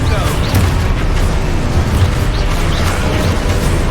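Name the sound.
Confringo spell explosion, from a Harry Potter video game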